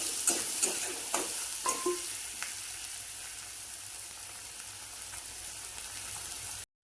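A paste of green chili, garlic and coriander roasting in a pan, a steady crackling sizzle with several scraping stirs early on, then continuous frying before an abrupt cut.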